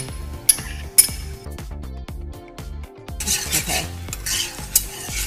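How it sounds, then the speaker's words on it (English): Butter and garlic cubes melting and being stirred in a pan on the stove, with soft sizzling and repeated clinks of a utensil against the pan, close up; a voice briefly speaks. "we're just gonna melt the butter with the garlic cubes to infuse that flavor"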